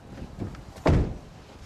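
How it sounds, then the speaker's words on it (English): A Toyota Hilux door swings shut with one solid, close thunk after a few faint rustles, then falls quiet. "But hey, look at this, I'll close the door."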